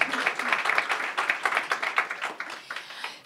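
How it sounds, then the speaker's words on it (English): An audience at an evening art and activism fundraiser event claps for about three seconds, a moderately loud burst of hands that thins out toward the end, with no talk over it. "Yeah, you can clap for that."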